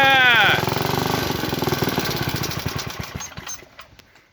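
A restored 1955 Toro Sport-Lawn mower engine fires up after decades unused, a loud sputtering start that settles into rapid, uneven chugging pulses and gradually dies down.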